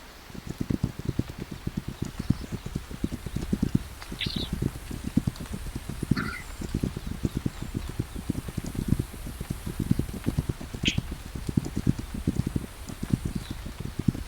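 Steady rapid clatter of hooves from several horses in a video game moving together, continuous and fairly loud throughout, with a few faint higher chimes over it.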